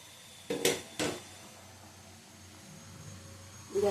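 A pot of masoor dal with drumstick-like vegetable stalks is lifted off a gas stove: two quick metallic clanks close by, then a low steady hum with a faint knock at the end.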